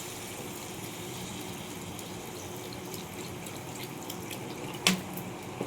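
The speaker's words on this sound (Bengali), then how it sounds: "অল্প করে জল দিই।" A little water is poured into a cooking pot of browned curry, a soft continuous pouring wash heard up close, ending in a small clatter.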